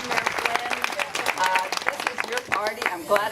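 An audience at an Oxnard city political event gives a round of applause for Mayor Pro Tem Ramirez, a dense, lively burst of many hands clapping with voices and cheers mixed in.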